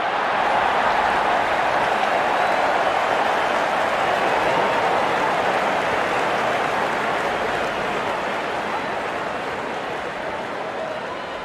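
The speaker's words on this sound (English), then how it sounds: "and the crowd cheering in joy" Steady broadband crowd roar from cricket match spectators in an IPL video game, Lucknow Super Giants versus Rajasthan Royals, continuous and fairly loud throughout with no talk.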